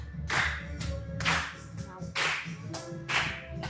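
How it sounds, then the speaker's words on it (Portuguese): An audience at a marketing talk claps along to music in loud, regular bursts, about four strong beats against a backing track. "Todo mundo nas palmas, ó."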